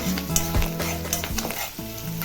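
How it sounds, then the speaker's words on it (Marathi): Onion sautéing with curry leaves in an iron kadai, a close, continuous sizzle with scraping stirs and clinks of a spatula against the pan. "कांदा चांगला परतून घेऊया"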